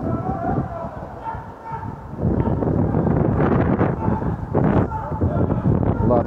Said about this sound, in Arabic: رياح قويه كنعتذر الا كانت الصوره كتحرك من حين لاخر، وهذا بفعل الرياح القويه